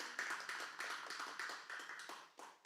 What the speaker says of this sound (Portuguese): Palmas para o Espírito Santo e a irmã ter feito isso.